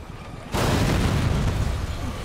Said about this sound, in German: Was ist da explodiert?